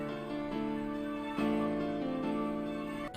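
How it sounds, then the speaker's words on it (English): Arpeggiated synth from the Electra X plugin with a Gross Beat fade effect and reverb, sustained chord tones shifting into a swelling new chord partway through, smooth and continuous with no talking. "the next sound I used was this ARP in Electra X"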